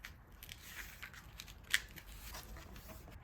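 Scissors cut through paper while a book is taken apart: quiet, close snipping and soft paper rustle, with one sharper cut standing out midway.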